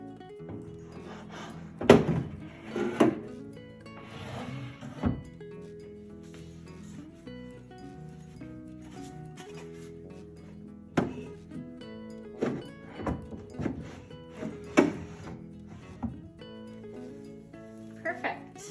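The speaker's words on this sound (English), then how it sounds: "now we'll put these drawers back in" Wooden drawers thunk and scrape as they slide into place, several separate knocks and bumps spread out, with a person talking intermittently.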